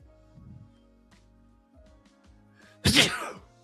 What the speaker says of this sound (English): Ooh, I had to sneeze.